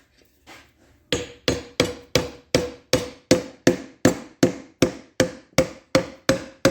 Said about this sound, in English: Now we got to find something soft to tap it in. Nice piece of hardwood dowel should work.